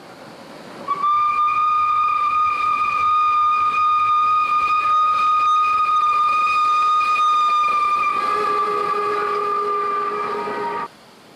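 A steam locomotive hauling a pilgrim special train to a religious festival sounds a long, loud, steady whistle for about ten seconds, its pitch shifting slightly near the end as it passes close by, with rail rumble underneath.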